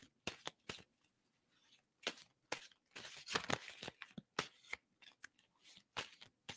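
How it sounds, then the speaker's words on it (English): Tarot cards are shuffled by hand in quick, crisp riffles and slaps, irregular bursts close up with short pauses between them and no talking. "tell me when to stop shuffling on that"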